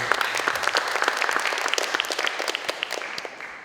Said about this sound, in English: Round of applause for our Director Historian.